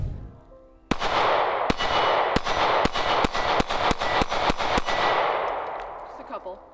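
A Springfield Hellcat pistol fired at a shooting range, about eleven sharp, loud shots in an uneven string that quickens toward the end, each crack ringing out into a long echoing tail, no talk.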